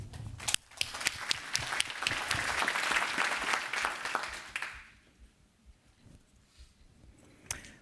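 An audience at a Washington University lecture applauds to welcome Professor Corcoran, with sustained clapping of moderate loudness for several seconds that then fades to scattered claps and room noise.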